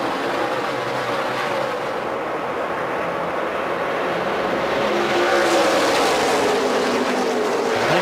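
A pack of NASCAR Nationwide stock cars roars past at Chicagoland during the 2012 Dollar General 300, a loud, sustained engine drone building and swelling as the field races after a restart, with no voices.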